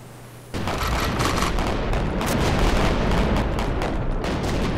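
Naval guns fire at an aircraft carrier in the Pacific naval combat game Victory At Sea Pacific. A dense, continuous barrage of loud gunfire and booms starts abruptly after a brief lull and rolls on without a break.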